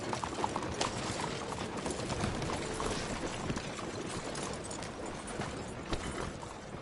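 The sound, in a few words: horse hooves trotting in video game Red Dead Redemption 2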